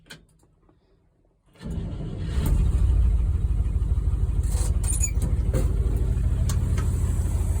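A car engine sits quiet, then cranks and catches, revs up sharply, and settles into a steady, loud, nearby running rumble.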